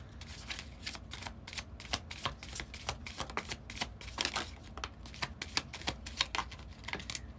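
A small oracle travel deck of cards being shuffled, with a steady run of quick riffling flicks and soft slaps that stay close and moderately loud, and no voices.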